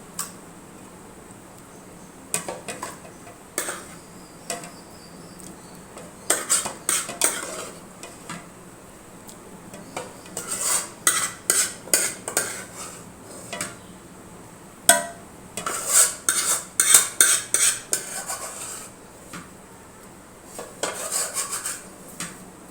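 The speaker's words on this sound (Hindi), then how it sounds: "इस स्पैचुला की मदद से हमने अपना बर्तन बिल्कुल साफ़ कर लिया है" A metal spatula scrapes and clanks against a cooking pot while making Sindhi biryani, giving repeated irregular scraping strokes and clattering taps that come in bursts, close and fairly loud, with no talking.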